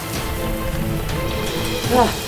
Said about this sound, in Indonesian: Mamat, hujannya kagak toleransi nih